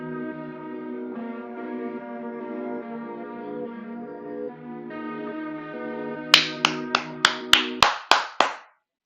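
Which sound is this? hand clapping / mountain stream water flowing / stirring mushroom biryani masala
hand clapping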